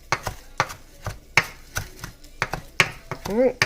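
A knife chopping fresh parsley on a board, quick close thuds in an uneven rhythm, fairly loud, with a brief voice at the very end.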